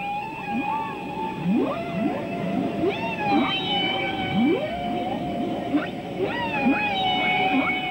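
Humpback whale song recorded underwater near Salt Cay in the Turks and Caicos, with rising whoops, moans and tonal cries overlapping steadily against a hissing sea background.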